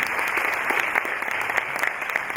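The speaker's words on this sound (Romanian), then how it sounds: "Haideți să o aplaudăm și să-i mulțumim Mariei Stati" An audience applauds steadily throughout, dense clapping at an even, moderate loudness with no voices.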